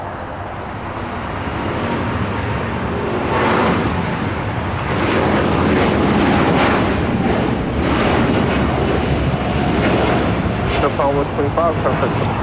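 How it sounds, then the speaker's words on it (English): An All Nippon Airways Boeing 787-8 Dreamliner takes off at LAX with a loud, rumbling jet roar that swells and then holds steady, with some crackling engine texture and people talking underneath. "This is All Nippon Airways, Flight 125, taking off to Tokyo Haneda on a 787-8 Dreamliner."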